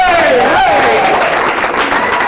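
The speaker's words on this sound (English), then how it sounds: "let's give a cheer for the whole group here" A group cheering and clapping for a bus driver, loud and close, with shouts and sustained applause throughout the short burst, voices mixed in.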